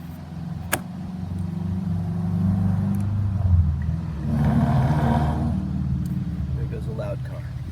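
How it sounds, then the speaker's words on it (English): A loud car rumbles past outdoors, its low engine roar swelling and fading over several seconds while a person keeps talking over it. "There goes a loud car."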